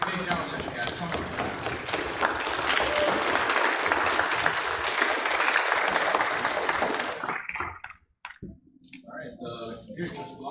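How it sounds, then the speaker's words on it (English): A student government general session crowd gives a big round of applause. Dense, loud clapping and cheering fill most of the stretch, then cut off sharply into brief scattered noises and talk. "Big round of applause for this big general session, guys."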